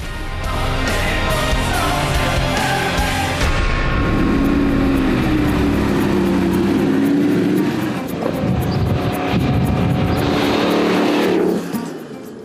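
A Lamborghini Jalpa, a V8 sports car built from 1982 to 1988, drives past loudly, its engine roaring and rising in pitch through the gears before cutting off abruptly near the end.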